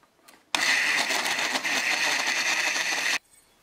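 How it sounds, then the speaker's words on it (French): A blender whirs steadily for about three seconds, blending a cherry milkshake with vanilla ice cream, loud and close, starting and stopping abruptly. "Moi, je vais mixer, je vais voir ma texture et je vais peut-être en rajouter."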